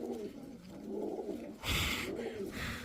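Kaldom pigeons coo softly at close range, repeating low, rolling calls in a steady rhythm while a short burst of rustling or flapping breaks in midway.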